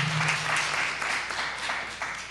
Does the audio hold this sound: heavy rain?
no